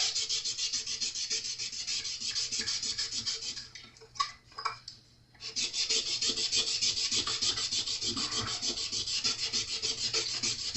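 Cloth or pad rubs briskly over the metal frets of a classical acoustic guitar to take off grime, a steady close raspy scrubbing that pauses briefly in the middle before resuming.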